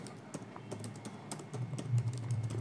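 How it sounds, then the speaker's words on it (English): Someone types a name on a computer keyboard, producing a steady run of light, quick key clicks at close range with no speech. "I can simply type my name"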